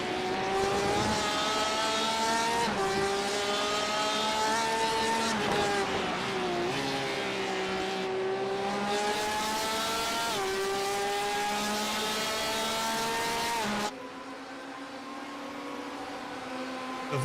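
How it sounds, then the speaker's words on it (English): Loud, sustained Porsche race car engines roaring at high revs in a sim racing game at Donington Park, pitch rising and falling through gear changes as cars speed past, with a sharp drop near the end. "The volume on these Porsches is so high."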